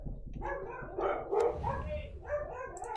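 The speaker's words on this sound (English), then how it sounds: "Not sure what the dogs were going on about out there" Several dogs bark outdoors in the distance, faint and intermittent, under steady speech.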